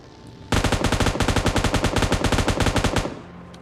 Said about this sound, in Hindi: फिर मैं यहाँ से उतरता हूँ और इस बंदे पे करता हूँ काफ़ी फायरिंग